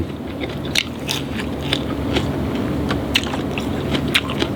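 A crunchy sweet pepper is bitten and chewed close up, with repeated crisp crunches and crackles in an irregular rhythm over a steady background hum.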